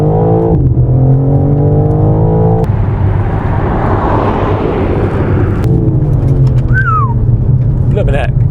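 A BMW M4 Competition xDrive launching hard on a private road under launch control, its engine note rising steeply in pitch as gears climb, loud and close for several seconds with brief voices near the end.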